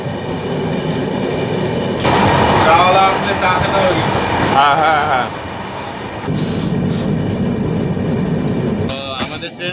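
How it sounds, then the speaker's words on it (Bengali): The Santragachi–Jabalpur Humsafar Express rolls into Jharsuguda Junction with loud rumbling wheel clatter and repeated high metallic squeals from the rails, the noise easing briefly midway before building again. "তো আমাদের ট্রেন এই মুহূর্তে ঝারসুগুড়া জংশনে প্রবেশ করতে চলেছে"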